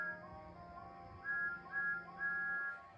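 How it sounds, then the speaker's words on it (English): Toy wooden engines Thomas and James sound their whistles in a series of bright, sustained steam-style toots, several overlapping blasts repeating over soft background hiss, fairly quiet and with no talking. "sounded their whistles as loudly as they could"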